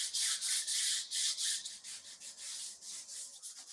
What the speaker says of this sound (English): you just want to take your sanding pad and you want to sand both ways